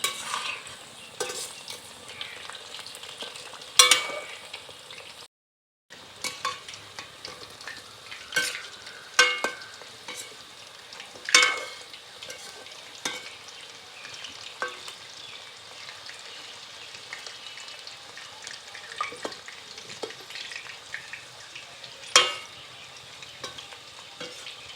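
Chicken pakoras fry in hot oil with a steady, crackling sizzle, broken by occasional louder stirring clinks and scrapes and one short silent gap, with no voices.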